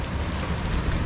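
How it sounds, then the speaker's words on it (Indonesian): Rain falling steadily on the roof of a roadside shelter, a dense continuous hiss with scattered drops, fairly loud and without talk. "Hujan bro."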